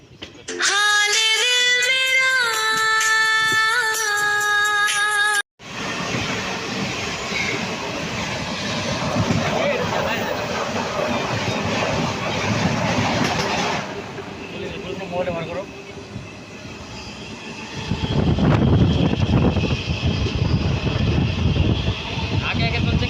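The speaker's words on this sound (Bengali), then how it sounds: "ডাব্লিউপি সেভেন লোকোমোটিভের সাথে চলছি" The Jan Shatabdi Express, hauled by a WP7 locomotive between Kozhikode and Ernakulam, runs with a steady rolling rumble and clatter. A loud tonal horn-like blast opens it, and a voice talks over the noise.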